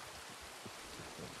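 Steady rain in the open-world western game Red Dead Redemption 2, a soft continuous wash of falling water at a quiet, even level with no voices over it.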